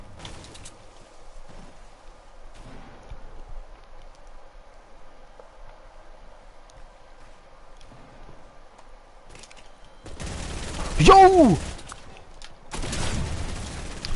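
In the Fortnite video game, bursts of gunfire crack out late and loud after a long quiet stretch, and one short shout cuts in among them.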